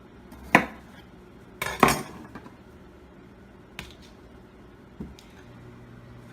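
A Pampered Chef Quick Slice pressed down on vegetables for loaded grilled nachos, a few sharp clacking plunges and clicks, the strongest near the start, then scattered lighter taps, close up with no voices.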